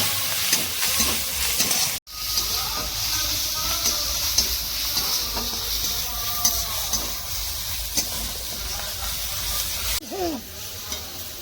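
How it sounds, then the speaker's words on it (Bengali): Ginger garlic paste frying in a pan for a potato and pea curry, a steady loud sizzle with frequent scraping stirs of a spatula, heard close up with no talking. "এগুলোকেও ভালো করে নেড়ে একটু ভেজে নিতে হবে"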